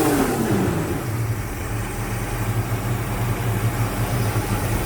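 A 1970 Plymouth Roadrunner with a 383 V8, freshly tuned with new carb and plugs, idles steadily in a low, even rumble after a brief falling rev at the start, close and loud with no talking.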